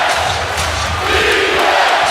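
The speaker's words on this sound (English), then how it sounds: "Crowd back into it." A basketball arena crowd roars and cheers loudly and continuously, a dense wash of voices filling the space without a break.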